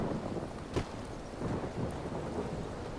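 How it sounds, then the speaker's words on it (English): Rolling thunder in the video game Fallout: New Vegas, a low, distant rumble under a steady wash of rain and wind, with a sharper crack early on, no voices. "this is the first time I've heard thunder in this game"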